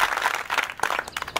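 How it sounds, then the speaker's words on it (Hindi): A Hindi film classroom breaks into short, uneven clapping for Suresh, a brief burst of hands close by with no speech over it. "सुरेश के लिए आप लोग सब तालियां बजाएंगे।"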